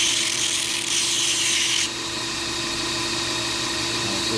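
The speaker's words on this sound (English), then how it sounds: "So we'll take it over to the other grinder now." A knife bolster is ground against a running grinder during bolster removal and sharpening, giving a steady, close, loud abrasive rasp that holds the whole time and drops to a slightly duller tone partway through.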